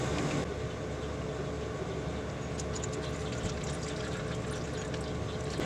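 Transmission fluid draining out of a Ford F-series pan, a steady liquid pour and trickle running continuously, close and moderately loud with faint clinks.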